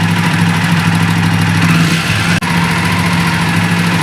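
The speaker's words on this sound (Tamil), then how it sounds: "இப்போ வண்டி ஸ்டார்ட் ஆகிடுச்சு." A Jawa motorcycle engine converted to a carburettor idles steadily and close just after starting, a continuous loud rumble with one brief dropout.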